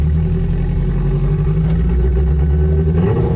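A turbocharged Honda with a manual clutch accelerating as gas is applied, giving a steady, loud, close engine drone that rises slightly in pitch near the end, with no talking.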